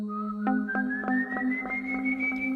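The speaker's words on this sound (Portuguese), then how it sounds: "Um assobio distante que parece ecoar pelo vento." A single drawn-out whistled tone that slowly rises in pitch, clear and sustained, broken by a few soft taps, no voices.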